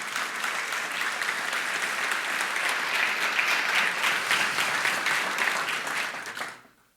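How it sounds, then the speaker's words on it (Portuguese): Congregation in a church service applauds steadily, a dense wash of many hands clapping that holds strong for several seconds before fading quickly to silence at the end. "Será que você pode aplaudir Jesus?"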